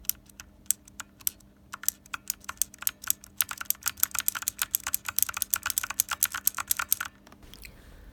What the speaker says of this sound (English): here's a little typing test for you guys now, so you can hear what they sound like